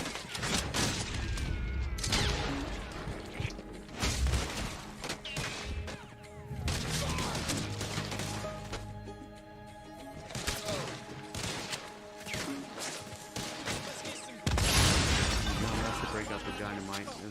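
Gunshots and a loud volley of gunfire in Red Dead Redemption 2, several sharp bursts and cracks spread through a busy game soundscape, with talking over parts of it.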